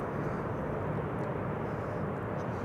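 Airbus A350-900 airliner at Amsterdam Schiphol Airport, a steady broadband engine roar holding level throughout, distant and continuous with no talk.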